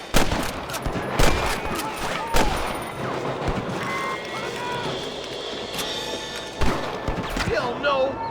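Gunfire in a Red Dead Redemption shootout, repeated sharp shots and bursts echoing across the scene, some close and loud, with voices and movement between them.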